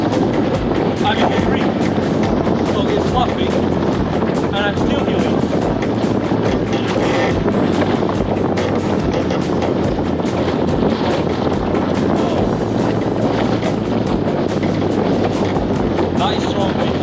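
Strong, steady wind roars and buffets the microphone while sailing a lug-rigged Goat dinghy in gusts near 20 knots, a dense, unbroken rush with low rumble and water noise throughout.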